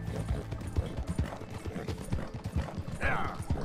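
Horse hooves clip-clop at a steady trot in Red Dead Redemption II, an even run of close, hollow thuds with a brief whinny-like cry near the end.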